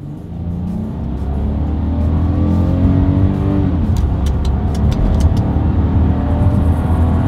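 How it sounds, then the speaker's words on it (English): A 2021 Volkswagen Atlas SUV accelerating from a rolling start, its engine droning louder and climbing in pitch through the gears, heard steadily from inside the cabin. "We're going to do a quick little acceleration test here, and let's see how quickly we can get the new 2021 Volkswagen Atlas here up to speed"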